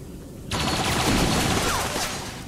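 A soldier in XCOM 2: War of the Chosen opens fire, a loud sustained burst of gunfire erupting abruptly and roaring steadily for two seconds after a brief quiet lead-in.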